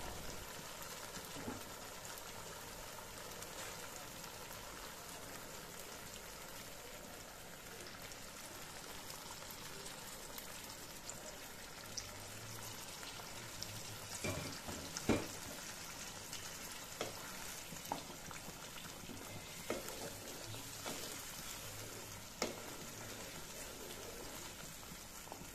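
Roast curry simmering in a pot just after hot water and broth are added, giving a quiet, steady crackle of fine bubbling with a few louder pops, and no talking.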